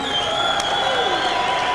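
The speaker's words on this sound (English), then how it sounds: "let's give these boxers a big El Paso applause" Crowd applause at a 1992 heavyweight boxing match in El Paso between Mike Hunter and Francois Botha, a dense, steady wash of clapping that fills the short stretch at constant loudness.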